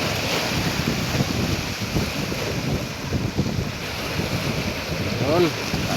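Sea waves surge and wash steadily against the shore at Dammam Corniche on a rough, choppy day. Wind buffets the microphone in a continuous loud roar with no pause.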